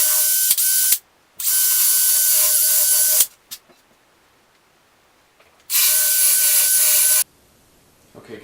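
Two long bursts of a steady, high-pitched drill whirring into wood, separated by quiet stretches with a few small knocks and clicks.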